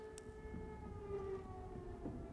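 A 12 o'clock siren in the video game Starsiege Deadzone wails as a steady, faint, sustained tone with a slight pitch rise, heard alone over low background noise.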